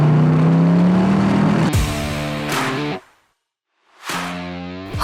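A 1968 Corvette 435 coupe with a big-block V8 roars loudly up close, revving high, dropping to a throaty idle, cutting out abruptly to silence, then bursting back into a rumbling rev.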